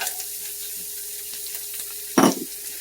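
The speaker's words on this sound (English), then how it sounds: "And you're going to want to go ahead and saute that for a little bit." Shallots sautéing in the center of a pan beside beef and mushrooms, a soft steady sizzle with a brief louder clatter of stirring near the end, no talking.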